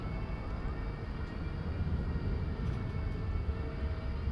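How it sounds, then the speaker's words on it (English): An Airbus A321neo airliner taxiing toward takeoff at Dallas Fort Worth airport, its engines giving a steady, continuous low rumble that holds at a moderate distance throughout. "American 2860 to Phoenix, and Airbus A321neo is headed towards the takeoff zone."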